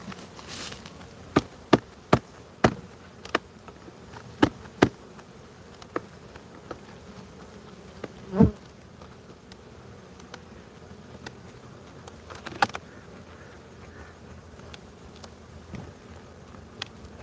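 Honeybees buzzing around an open hive in a continuous close drone, with scattered sharp clicks and taps breaking through now and then.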